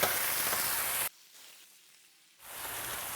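Sliced wagyu steak sizzling on a hot cooking surface, a bright hissing fry that cuts out abruptly, drops to near quiet, then returns fainter toward the end.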